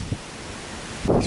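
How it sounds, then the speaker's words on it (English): Strong night wind buffeting a microphone outdoors during owl photography, a steady broadband rush with a louder gust at the end. "Really windy at the moment."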